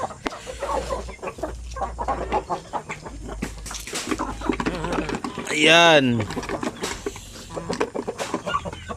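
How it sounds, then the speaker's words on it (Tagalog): Large laying hens cluck and squawk repeatedly nearby in a poultry farm, with one loud drawn-out rooster-like call in the middle, while a person talks over the flock. "Mga malalaki na mga inahing manok."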